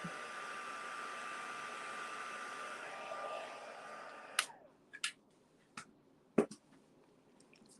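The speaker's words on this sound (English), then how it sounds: "Just going to quickly heat that up." A craft heat tool blows a steady whirring hiss while heating a textured card, then switches off and leaves a few light clicks and taps in a quiet room.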